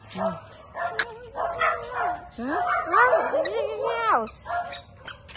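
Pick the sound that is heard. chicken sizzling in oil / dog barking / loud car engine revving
dog barking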